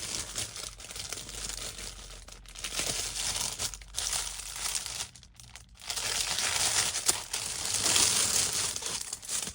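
A wrapped Disney-themed craft swap package is torn open by hand, with loud, continuous crinkling and crumpling of the wrapping close by and a few brief pauses.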